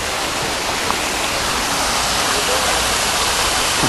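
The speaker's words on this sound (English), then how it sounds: "Some little waterfall hidden in Central Park." Small waterfall hidden in the northern woods of Central Park, a steady broadband rush of falling water that holds constant and fairly close throughout, with no talk over it.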